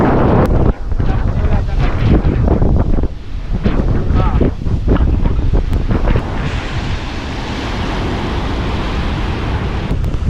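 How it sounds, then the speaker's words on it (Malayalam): Strong wind buffeting the microphone on a seaside breakwater in Pondicherry, loud and continuous with surf rumbling underneath and gusts that rise and ease, no one talking. "നല്ല കാറ്റുണ്ട്."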